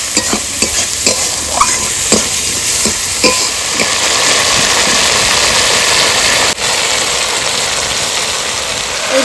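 Spice paste of ground cumin, dried and green chillies, turmeric and salt frying in a pan, a loud continuous sizzle with repeated scraping stirs, close and without talk.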